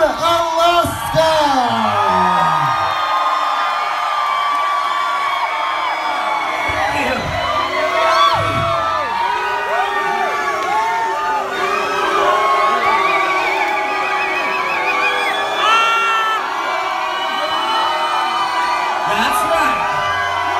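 A live audience at a drag show starring Sharon Needles and Alaska cheers, whoops and yells steadily and loudly, a dense crowd roar that carries on without a break, with a voice coming through over it.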